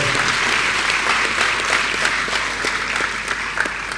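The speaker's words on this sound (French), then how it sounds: "Est-ce que vous pouvez acclamer pour elle?" Steady, dense applause from an audience at an entrepreneurship masterclass in Dakar, Senegal, sustained and close throughout with a faint voice or two underneath.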